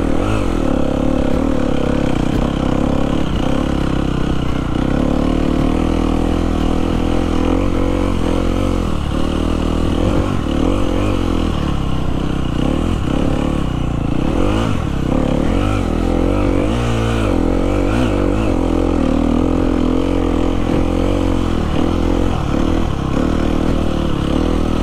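Motocross motorcycle ridden in slow circles on a sandy track with small ruts, its engine droning steadily and loud throughout, with repeated rises and falls in revs and no talking.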